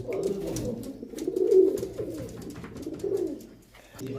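A KTM Teddy pigeon, an original 128 Oman Teddy, coos up close in low, rolling, repeated phrases that swell and fade in a steady rhythm.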